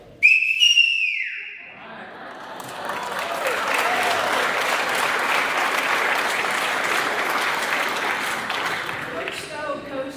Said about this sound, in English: and we're going to look at Sharon, Coach Stowe's whistle.